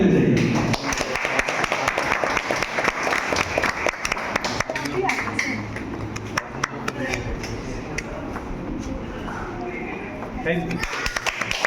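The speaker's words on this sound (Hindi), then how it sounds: "सभी का ताली जोर से बजना चाहिए।" A roomful of students and teachers at a coaching academy's Teachers' Day celebration in Pakur clap loudly, a dense, steady patter of hands that runs nearly the whole time, with voices talking over it.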